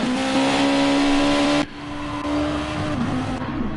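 A race car in Gran Turismo Sport, running at the Spain circuit, drones past with a loud steady engine note, then the pitch and level drop abruptly as it moves away.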